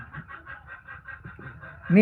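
A voice imitates a chicken with a quick, steady run of repeated clucks, ending in a sudden louder call.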